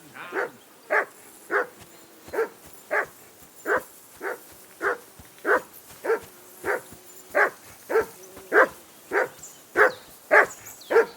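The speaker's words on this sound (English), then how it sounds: "Whistle at that mutt of yours to stop barking!" A dog in the medieval game Kingdom Come Deliverance II barks steadily, about sixteen evenly spaced woofs over eleven seconds, moderately close and growing slightly louder toward the end, with no talk over it.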